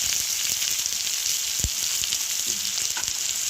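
Chopped onion fries in white vegetable oil in a wok for a Bengali chicken recipe, giving a dense, constant crackling sizzle, loud and close, with a few faint clinks.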